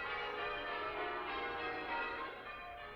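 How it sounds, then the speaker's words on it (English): Church bells pealing across Moscow on Shrove Tuesday, a dense, continuous chorus of ringing tones that hums and shimmers steadily throughout, loud and unbroken, with no voices. "The bells were ringing out all over Moscow"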